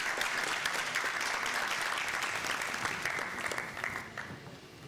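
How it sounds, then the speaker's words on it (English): Applause from a graduation ceremony audience, a steady dense clapping that holds strong throughout, then thins and fades slightly toward the end, with no talking over it. "Please, a round of applause."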